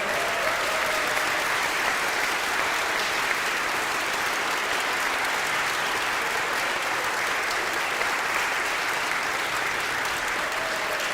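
Orchestra musicians at a rehearsal give sustained applause, steady and dense clapping that continues evenly without pause.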